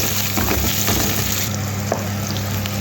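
Onions sautéing in oil in a pan for Arabic-style mutton biryani, heard as a dense, steady frying sizzle with a low hum beneath, close and continuous over a few seconds, with no speech.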